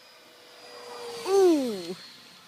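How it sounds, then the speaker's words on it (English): A remote-controlled glider passes overhead with a brief rising-and-falling whine lasting about a second over a steady background hiss, moderately loud at its closest point before fading. "There's the glider."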